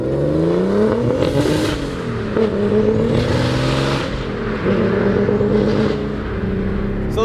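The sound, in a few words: 675 HP turbo E36 BMW M3 driving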